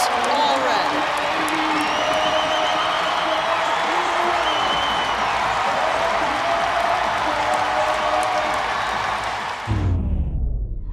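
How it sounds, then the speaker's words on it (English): Sustained, dense applause from a large crowd at a college wrestling meet, Ohio State at Nebraska, fills the scene steadily, then cuts off abruptly near the end. "Thunderous applause for Silas Allred."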